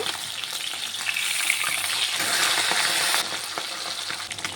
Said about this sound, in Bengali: বাকি পাবদা মাছগুলোকে একইভাবে ভেজে নেব।